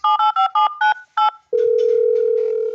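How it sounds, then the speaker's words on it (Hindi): Six quick touch-tone beeps of a phone number being dialed, followed by a steady ringback-style tone with faint clicks, close and clear; the number is busy. "The number you have dialed is currently busy."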